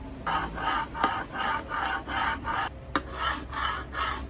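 Harsh rhythmic rasping of metal grinding against metal, repeated strokes about every half second, close and steady, with a couple of sharp clicks.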